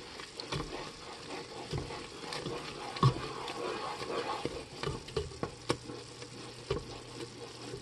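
Sugar syrup for bee fondant being stirred while it heats and foams toward temperature, a steady close scraping swirl over a soft constant sizzle with occasional sharper knocks of the spoon against the pot.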